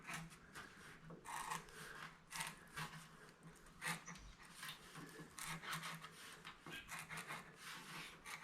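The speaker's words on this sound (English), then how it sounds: "So now I just got to score the inside with my sharpened screwdriver." A sharpened screwdriver scoring through paper pattern material laid over a Datsun 240Z engine bay, a faint scratchy rasping in short repeated strokes at a steady working rhythm, with no talking.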